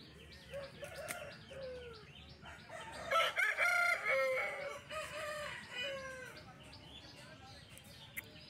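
Rooster at a village poultry market in Jhargram, West Bengal, crowing amid clucking and chirping fowl, with a busy crowd and voices murmuring underneath, the crow rising loud in the middle.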